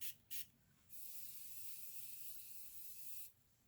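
Two short quick spritzes of Beauty Bakerie Grace setting spray, then one longer steady hiss of mist lasting a couple of seconds, close to the microphone in an otherwise quiet room.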